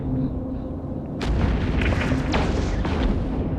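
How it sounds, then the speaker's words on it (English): A Caracal ship is destroyed in the EVE Echoes space game: a deep boom erupts partway through, followed by a crackling, rumbling burst that stays loud to the end. "And the Carcal sniper has been destroyed as well."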